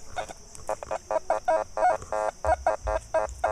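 A Fors Core metal detector gives an overload signal, a rapid string of buzzy, nasal beeping pulses in an uneven rhythm, moderately loud, with a faint low thump of handling near the end.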